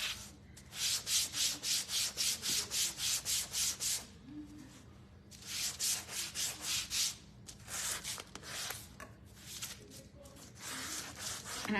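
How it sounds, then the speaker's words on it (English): Sandpaper rubs in quick rhythmic strokes along the edges of a painted wooden door hanger, two long bursts of even scrubbing separated by quieter pauses and lighter scratches, over a steady low hum. "I'm just sanding my edges"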